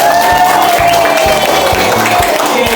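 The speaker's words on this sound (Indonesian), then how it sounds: "alhamdulillah tepuk tangan untuk semuanya" At an education seminar, a crowd claps loudly and steadily throughout, with a sustained tone and some cheering mixed in over the applause.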